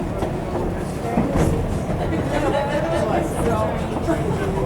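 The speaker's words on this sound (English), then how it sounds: "are you seeing the train?" Train passing during a 1998 New Mexico vacation, heard as a loud rolling rumble with rhythmic clatter of wheels on rails, mixed with wind and people talking nearby.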